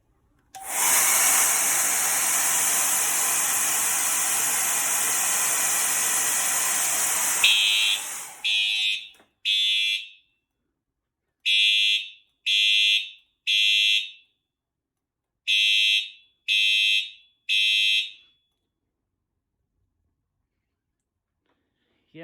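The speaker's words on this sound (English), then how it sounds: "You can see that the alarms, they shut off right by themselves" A fire alarm set off by a Siemens heat detector test blares loudly and continuously, then breaks into a series of short, sharp beeps in uneven bursts before stopping and leaving silence.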